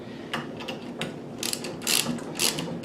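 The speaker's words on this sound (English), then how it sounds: "Now, what I have my ratchet set up on an extension." A ratchet on an extension with a 9/16 deep socket runs a bolt down on the base of a Redding Model 7-1 reloading press, giving a series of close, sharp clicking bursts in an uneven rhythm, with no talk.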